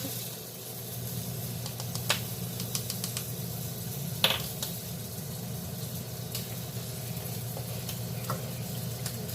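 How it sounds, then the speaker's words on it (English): Steady sizzling and bubbling of hot fat as flour is stirred in for a roux, with a few scraping clicks from stirring, continuous and close throughout. "continue doing this here, shifting the flour a little bit by little bit, stirring"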